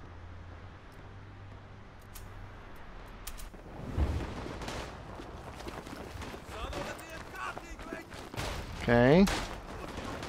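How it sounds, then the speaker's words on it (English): Artillery fire in the World War One video game Tannenberg, a thudding blast and then scattered booms and gunfire over a noisy battlefield, with a voice speaking briefly. "Artillery on your head."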